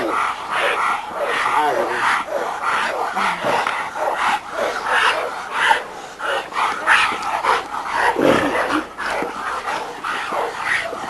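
Dogs in a yard kept for breeding bark and yip in a busy, continuous jumble, loud and close, with overlapping cries and some whimpering, and a voice partly buried in the noise.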